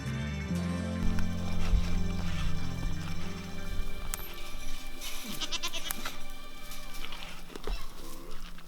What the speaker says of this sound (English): Hey, your goat's eating them.